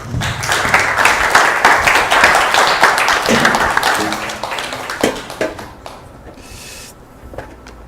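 A church congregation at a Bible conference applauds in thanks, a dense, loud, sustained clatter of many hands that thins out and fades after about five seconds, leaving a few scattered claps.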